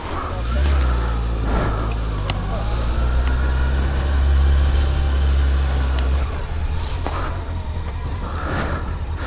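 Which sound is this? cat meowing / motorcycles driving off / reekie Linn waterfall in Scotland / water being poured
motorcycles driving off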